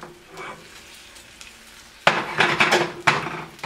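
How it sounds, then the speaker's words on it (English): A frying pan is tilted on a stovetop while an omelette cooks, egg sizzling quietly before sharp scraping and clattering of pan and utensil come in loud bursts, with no talk. "You can also tilt your pan as well"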